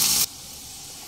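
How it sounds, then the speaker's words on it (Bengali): Lightly salted potato pieces fry in hot oil over a low to medium flame: a brief loud hiss settles into a steady, softer sizzle close by, with no talking. "লো টু মিডিয়াম ফ্লেমে 3 থেকে 4 মিনিট আলুগুলোকে একটু হালকা ভেজে নেব।"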